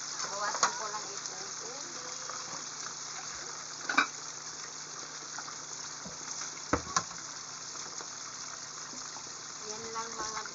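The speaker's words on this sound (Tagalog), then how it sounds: "tapos na tayo magprito ng ating isda" Fish frying in a pan of hot oil for Bisaya fish soup, a steady soft sizzle with a few sharp pops and spits, close by and fairly quiet.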